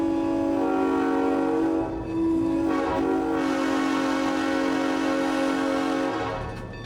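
A freight train on a short line railroad spur sounds a long, loud, steady horn blast that holds for several seconds before tapering off, with rumbling underneath.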